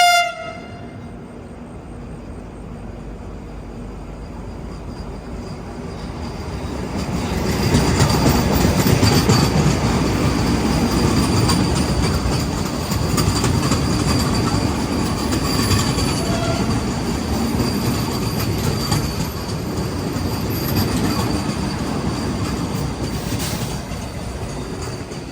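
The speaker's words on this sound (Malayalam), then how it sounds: "വന്ദേ ഭാരത് വരുന്നുണ്ട്." A Madgaon Vande Bharat express passes close by, its rumble and wheel clatter building loud and steady after a quieter start, with a horn sounding near the beginning.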